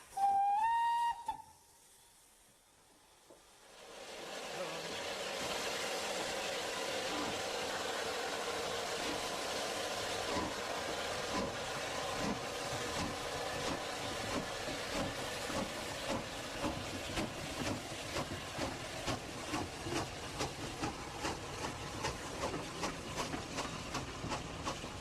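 A preserved British 0-6-0 tender steam locomotive gives a short shrill whistle, then after a pause starts working with loud steady exhaust beats and hissing steam that quicken and keep going.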